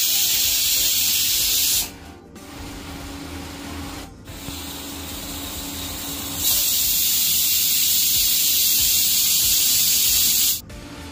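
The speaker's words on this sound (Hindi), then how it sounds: "अब आपके कुकर में जितनी विसल आती हो उतनी विसल आप कर लीजिए" Loud, harsh steam hisses from a pressure cooker cooking masala khichdi in long continuous bursts, broken by a few brief pauses before the hissing resumes.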